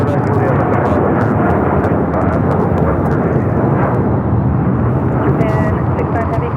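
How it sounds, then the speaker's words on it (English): A Japan Airlines Boeing 787-9 Dreamliner takes off at LAX, a loud, steady broadband jet roar holding throughout, with faint voices underneath. "Japan Airlines Flight 69 taking off to Osaka on the 787-9 Dreamliner."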